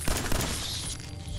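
A loud gunshot bursts out in Fallout 4 while fighting giant roaches, a sharp blast followed by a brief fading rumble.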